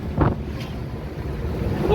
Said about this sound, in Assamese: এতিয়া ৰ'দটো নাই আৰু অলপ বতাহ লাগি আছে